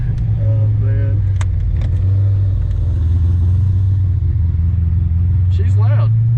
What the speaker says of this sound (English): Do a little startup.